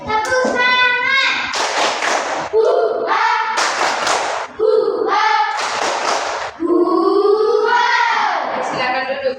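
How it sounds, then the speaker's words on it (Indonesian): A classroom of students doing a rhythmic spirit clap, loud bursts of group clapping in patterned sets alternating with chanted voices, close and energetic. "Tepuk semangat."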